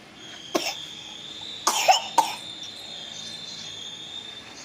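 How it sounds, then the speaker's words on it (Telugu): A child with a fever coughs three times in short, sharp bursts, with a steady high cricket chirr continuing in the background. "దగ్గు వస్తుంది బాగా"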